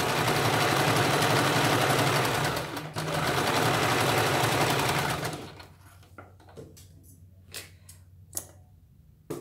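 A sewing machine runs a straight stitch along a folded strip on a princess-cut blouse, a loud continuous whirring hum that briefly dips, then stops, leaving quiet handling clicks and rustles.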